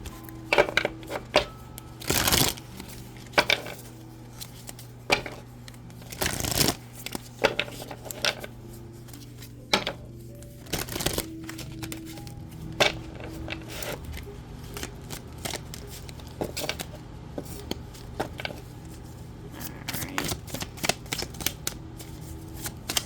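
A deck of tarot cards being shuffled in repeated riffling bursts with short pauses between them, close and fairly quiet with a steady low hum underneath and no talking.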